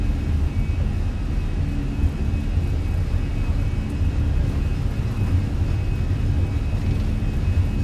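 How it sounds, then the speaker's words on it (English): Fenix A320 jet engines spooling at takeoff power in Microsoft Flight Simulator, a loud, steady, dense roar with a high whine, continuous and alone with no talk. "Takeoff power set."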